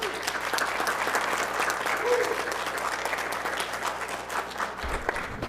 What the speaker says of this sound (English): Can we get an applause for our firefighters?